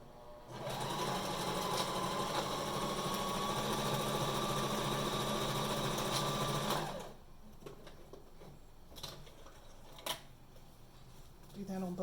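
A sewing machine runs a straight stitch along the edge of a fabric face mask, a steady whirring drone lasting several seconds before it stops, followed by quiet handling sounds and a soft tap.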